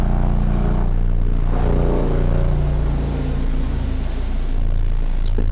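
Propeller airplane droning overhead, a loud, steady low rumble that swells and eases slightly as it passes, with no talk.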